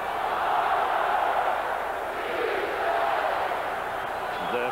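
Stadium crowd at a 1988 NFL game between the LA Raiders and Houston Oilers, a steady broadband roar of cheering and noise that holds at a constant level throughout with no clear peaks.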